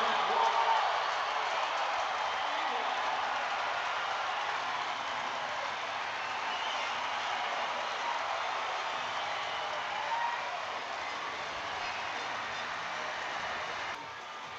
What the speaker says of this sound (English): Biggest rugby league crowd in this city for 5 years. And what about this noise?